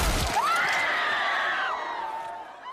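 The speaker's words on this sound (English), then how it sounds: "cal, aka the Red Viper from Game of Thrones, aka the screaming guy featured in this clip" A man screams in a Game of Thrones scene, a single long, strained, loud cry rising sharply and holding for over a second before breaking off, with crowd-like noise around it.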